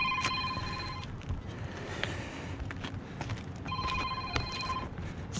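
A phone rings repeatedly with two bursts of a bright electronic ringtone, faint and slightly distant, over outdoor background noise during a roof repair.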